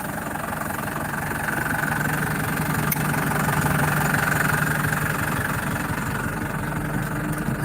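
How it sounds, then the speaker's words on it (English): A John Deere flail mower engine runs at a steady, even drone with a low mechanical hum and faint knocking vibration, constant and fairly close throughout. "this is a John Deere flail mower. See how low it cuts it?"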